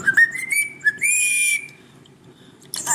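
A pet bird whistles a clear rising call, several short chirped notes followed by a longer sliding whistle, close and fairly loud, then a brief burst of chatter at the end, with no voices.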